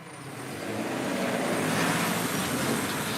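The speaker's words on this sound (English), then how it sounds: "that's a truck" A truck passes fast on a nearby road, its broadband roar swelling over the first second and holding loud and steady throughout.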